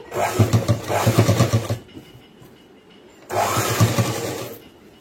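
A sewing machine stitches a boys' school uniform pant in two runs, a rapid rhythmic whirring clatter for nearly two seconds, a pause, then another shorter burst, close and clear with no speech.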